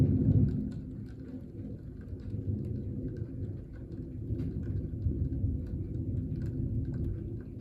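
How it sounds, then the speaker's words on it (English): A low, steady thunder rumble rolls on and on through a strong thunderstorm, with rain and faint patter over it, heard from a distance with no talking. "I started this video because we had a big crack of thunder."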